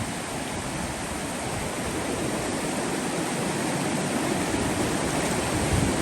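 The flooded Liu river rushes past close by, a loud, constant roar of turbulent water with no pauses and no voices.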